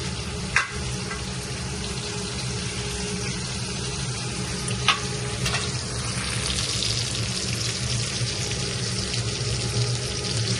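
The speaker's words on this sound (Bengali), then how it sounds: "এখানে পটল আলু পেঁয়াজ দিয়ে ভাজি করছি" Pointed gourd, potato and onion frying together in a pan, a steady low hiss of sizzling oil with a couple of sharp clicks from a utensil, close and even, without speech.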